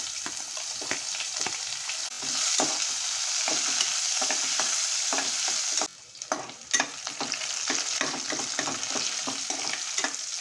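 Onion sizzles steadily in hot oil with mustard seeds, cumin and curry leaves while being stirred, producing a loud continuous frying hiss broken by a brief pause and spoon scrapes.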